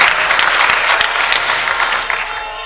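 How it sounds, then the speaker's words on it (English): A crowd applauds at an evening campaign rally in West Portland, dense clapping loud and close that holds steady before tapering slightly toward the end. "Give the lady a big round of applause."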